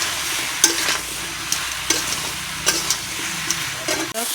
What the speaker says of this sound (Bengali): বন্ধুরা দিয়ে দেবো হলুদ, আর লঙ্কা বাটা। সুন্দর করে আবার কষিয়ে নেব।